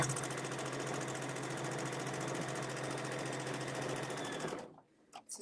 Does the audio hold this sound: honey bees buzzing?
no